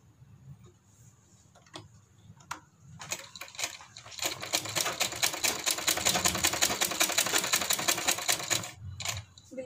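A sewing machine stitches double-layer fabric along the edge of a piping neckline, starting with a few scattered clicks before settling into a long, fast, steady needle rattle close by, then stopping.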